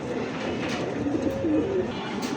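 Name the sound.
small breed pigeons cooing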